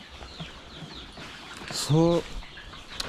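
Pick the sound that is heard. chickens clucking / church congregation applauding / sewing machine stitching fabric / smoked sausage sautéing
chickens clucking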